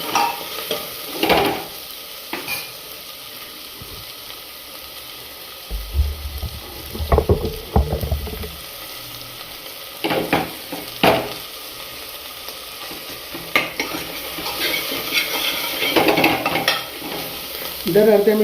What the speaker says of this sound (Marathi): सगळे हाय फ्लेमवरतीच होऊ द्या, जेणेकरून लवकर लवकर त्याला ते कांदा वगैरे कॅरमलाइज होईल